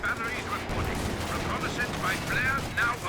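Rocket artillery fire in a World War II strategy game booms and rumbles steadily at a moderate level beneath a commentator's voice.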